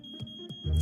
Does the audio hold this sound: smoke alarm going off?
yes